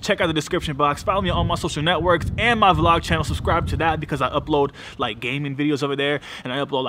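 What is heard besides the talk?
No everyday noises stand out.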